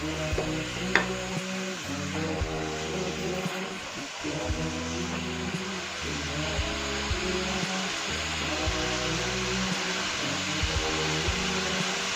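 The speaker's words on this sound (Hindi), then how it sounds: "इसको थोड़ा सा मैं इसमें लहसुन अदरक के अंदर थोड़ा सा मैं फ्राई करूँगी अच्छी तरह" Chicken fries in garlic and ginger with a continuous, fairly loud hiss and sizzle, accompanied by a low hum and irregular clanks.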